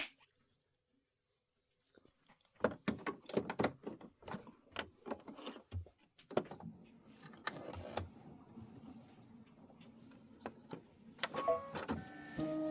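After a moment of near silence, an embroidery machine starts stitching quilt appliqué in Moda Love & Cheer fabric, with quick mechanical clicks and thumps over a low motor hum that grows steadier.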